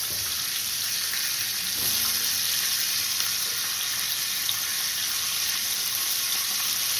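Chopped onion, carrots and celery brown in a hot pot, giving a steady, close sizzle and crackle throughout with no voices.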